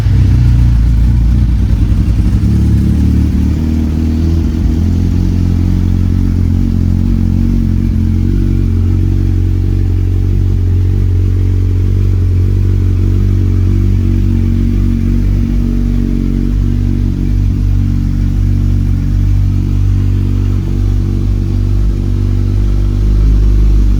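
Close up, a Kawasaki Ninja 1000 with a new Two Brothers aftermarket exhaust holds a loud, steady, bass-heavy idle. It throbs continuously for a long stretch with slight rev swells and no voices.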